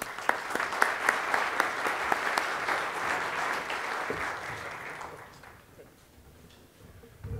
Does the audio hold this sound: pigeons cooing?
no